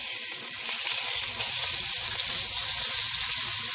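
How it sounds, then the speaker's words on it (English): Pork browning for an Italian-style roast, a loud steady hissing sizzle in a hot pan, close and continuous with faint crackle and no talk. "now I'm sauteing my meat, and it's been browning"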